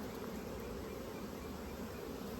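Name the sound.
honeybees buzzing on hive frames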